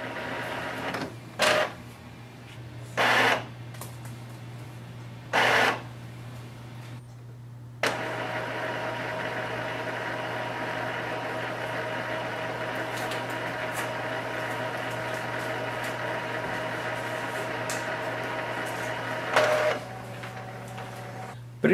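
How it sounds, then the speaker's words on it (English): Mechanical whirring and clunks from an Epson ET-2400 inkjet printer running print head cleaning, with several short bursts and then a long steady motor hum with faint clicks. "Once your printer finishes the print head cleaning, this light will become stable."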